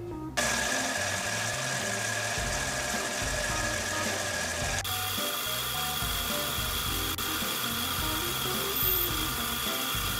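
A home lathe drills a 13/64 tap hole for a 1/4-20 thread, steadily, with a continuous whirring grind and a high mechanical whine, loud and close, with no talking.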